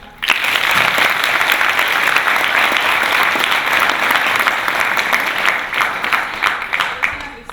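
Sustained audience applause at an Estonian youth entrepreneurship award event, a dense even wash of many hands clapping close and loud for about seven seconds, thinning slightly toward the end.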